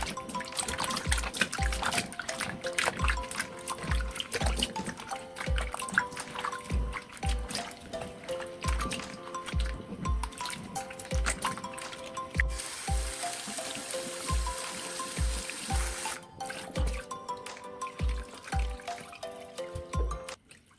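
Cold tap water runs steadily while yam is washed in a kitchen. The flow is close and continuous, with irregular splashes and drips, and no one speaks.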